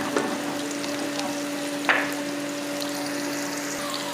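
Onions fry in a pan until brown, giving a soft continuous sizzle with a steady hum underneath and a couple of brief clinks, close by and moderately quiet.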